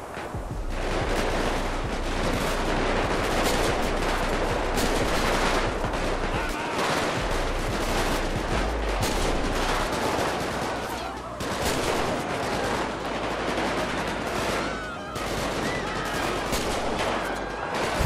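A GTA V gang war with a sniper rifle in use fills the air with loud, dense gunfire: a near-constant barrage of overlapping shots and blasts that barely lets up.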